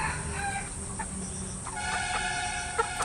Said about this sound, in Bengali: এটা দেশি মুরগি, এটা করকনাথ, নর্মালি চড়ে বেড়াচ্ছে।